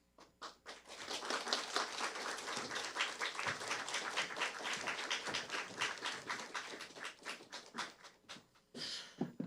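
A church congregation at a Sunday afternoon worship service claps warmly for a speaker, dense rhythmic applause lasting several seconds and ending in a few separate bursts.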